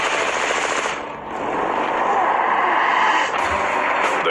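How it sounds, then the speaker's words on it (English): Sustained burst of automatic machine gun fire from a drive-by shooting outside a tattoo parlor, dense and loud, rattling continuously with a brief dip before resuming. "He withdrew a machine gun from his jacket and opened fire before speeding away."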